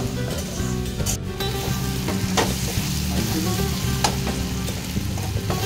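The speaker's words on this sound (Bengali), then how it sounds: "এখানে মশলাটা কষানো হচ্ছে মাটনের।" Spice paste for a mutton curry fries hard in a pan, a loud, continuous sizzle with scraping stirs and occasional sharp taps, with no talking.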